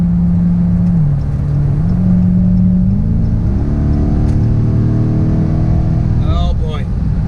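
A 2017 Dodge Charger SRT 392 with a 6.4-liter V8 growls loud and close as it accelerates through rising gear pulls, its deep tone stepping upward with each shift, while a voice is heard at times over the engine.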